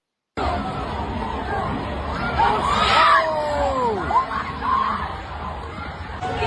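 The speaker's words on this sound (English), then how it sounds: "Do you hear that goddamn blood curdling scream and shit that a bitch let out?" A woman's scream rises amid a crowded street protest, carried over shouting and babble from many voices nearby, with one long wavering cry standing out in the middle of the noisy scene.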